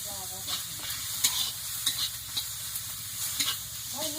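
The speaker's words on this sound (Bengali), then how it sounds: "একটু নাড়া।" Food frying and being stirred in a pan in a home kitchen, with steady sizzling and scattered scraping clicks from the stirring, fairly close and with no talk.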